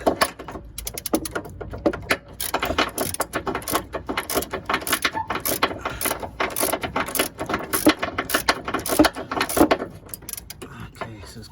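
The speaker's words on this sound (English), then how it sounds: "you need a 15mm socket, you need a wobbly adapter, you need a small extension as well, and you need your ratchet right here" A hand ratchet with a 15mm socket, wobble adapter and short extension loosens a drop link nut on a Ford Fiesta MK7, giving rapid, uneven bursts of close, crisp clicking that run almost continuously.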